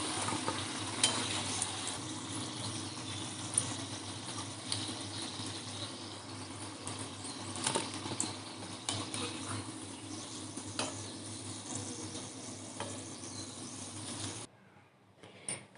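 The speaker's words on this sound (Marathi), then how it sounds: "कॉर्न भजी आपल्याला जेवढे हवे होते तेवढे आपण तळून घेतले आहेत।" Corn bhaji fry in hot oil with a steady, dense sizzle and bubbling that runs on throughout, close up, with occasional light clinks, before cutting off abruptly near the end.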